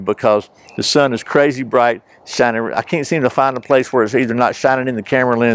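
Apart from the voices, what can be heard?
No everyday noises stand out.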